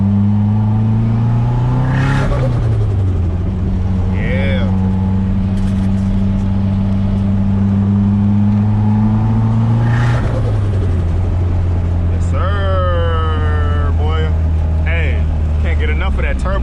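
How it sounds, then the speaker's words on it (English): A car's turbocharged KA24DET engine drones and rises in pitch as it accelerates, with gear shifts and turbo whistling, someone talking over it. "Turbo sound, man, you hear me?"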